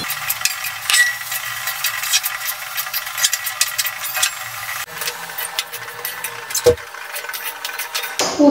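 Poppy seed and mustard paste is stirred and fried with bottle gourd greens in a pan over a raised gas flame. Close, continuous sizzling with scraping stirs and a few sharp clanks near the end.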